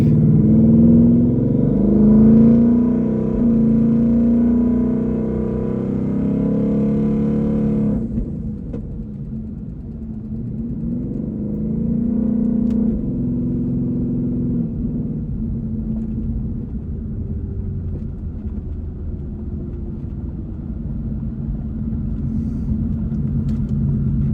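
A twin-turbo 2020 Shelby GT500 with a TH400 swap pulls hard up a hill, a loud, deep engine roar rising, then an abrupt drop around eight seconds to a lower, steadier rumbling cruise.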